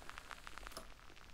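A gated audio track carries a constant crackle: faint static-like noise with a quick series of soft, regular ticks near the start that thin out into a low, steady hiss.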